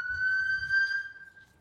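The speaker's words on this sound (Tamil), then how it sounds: "ஆம்புலன்ஸ்" An ambulance siren holds a steady high wailing tone over faint low rumbling, fading slightly toward the end of the short burst.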